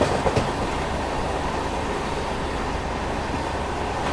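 A late-running Patna–New Delhi special train runs alongside and overtakes the slow Puri–Anand Vihar Express (18427). Steady loud rumble and rail clatter fill the whole stretch, with a brief rattle near the start.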